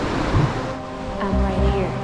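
Ocean waves surging with strong force on the Oregon coast, a loud continuous wash with wind buffeting the microphone and low rumbling throughout.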